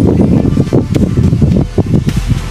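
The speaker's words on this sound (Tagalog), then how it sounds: "Sarap ng simoy ng hangin dito mga loves." Steady wind rushing and buffeting outdoors at a beach resort on Samal Island, with gusty fluctuations and faint rustling, continuous throughout.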